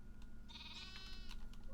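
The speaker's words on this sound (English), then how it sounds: "Sheep." A Minecraft sheep gives a single wavering bleat, clear and close, over a low steady background hum; a few faint clicks come before and after it, and nobody speaks.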